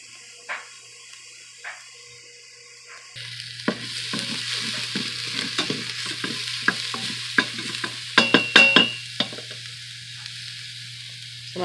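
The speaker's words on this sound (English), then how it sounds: "I have my Instant Pot set on Sauté. So I'm going to saute that" Food sautés in grapeseed oil inside an Instant Pot set to sauté, a low steady sizzle joined by sharp clicks and taps of a utensil stirring against the pot, with no speech.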